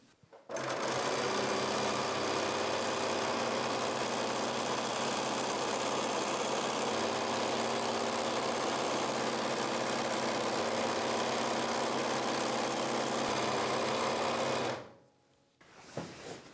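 A sewing machine stitches quilt strips together with a quarter-inch seam, a loud continuous whirring motor that runs steadily for about fourteen seconds, then stops abruptly into quiet.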